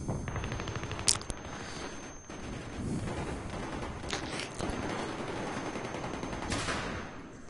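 Rapid gunfire from an M16A3 rifle in the Battlefield 3 shooter game, sustained bursts with sharp cracks running throughout and no talk.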